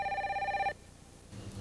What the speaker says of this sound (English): The ringing connection sends a ringing signal to Zelda's telephone.